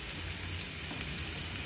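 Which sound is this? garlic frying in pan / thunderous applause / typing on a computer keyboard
garlic frying in pan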